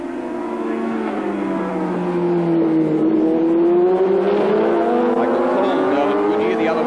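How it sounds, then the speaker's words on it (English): A racing car at Sandown in the 1980 Swann Series accelerates hard, its loud engine note climbing steadily in pitch across the clip as it pulls through the gears, with a commentator speaking over it. "Accelerating probably flat out there at the moment, and he might just get change into third gear"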